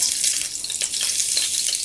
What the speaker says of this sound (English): As soon as that starts sizzling